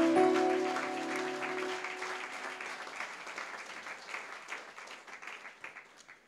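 A church congregation applauding during a sermon, a broad wash of many hands clapping that starts loud and slowly thins and fades, with a faint sustained tone at the start.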